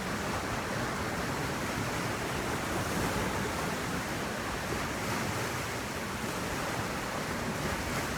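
Ocean waves crash continuously on the shore under gusting wind that buffets the microphone, a loud, unbroken roar of surf with no voices.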